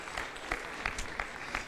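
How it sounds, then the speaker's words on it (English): A graduation ceremony audience claps in a light, scattered way, with several louder bursts of hand claps standing out over a soft room murmur for a couple of seconds. "You can clap after I do it."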